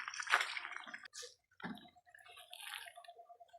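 Water poured onto a plant in an outdoor garden, splashing and trickling nearby in short bursts with brief pauses and a thin lingering drip.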